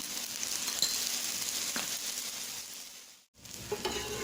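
Chicken curry dosa frying in oil on a pan gives a steady close sizzle that fills the clip, with a few soft scrapes and a short drop near the end.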